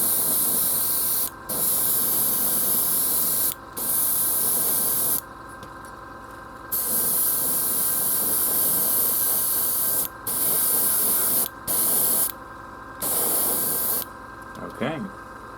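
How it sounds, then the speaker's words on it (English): An airbrush sprays paint onto a terrain model in bursts of loud, close hissing with short pauses between them, plus a faint brief tone near the end. "Good, airbrush is kicking in."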